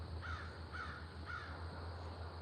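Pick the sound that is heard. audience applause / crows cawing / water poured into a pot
crows cawing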